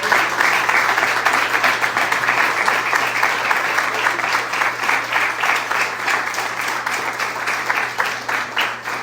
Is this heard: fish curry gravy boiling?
no